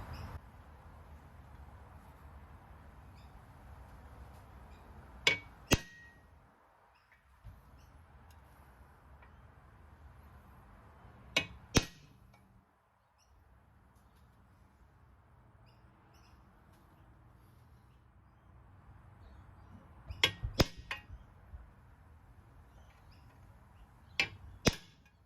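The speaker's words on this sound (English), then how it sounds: "as long as I get a good center punch just for those drill holes" A center punch is struck to mark drill holes for a Givi Monokey top-box mount. Sharp metallic taps land mostly in quick pairs, separated by several seconds of near silence, close and crisp in a quiet room.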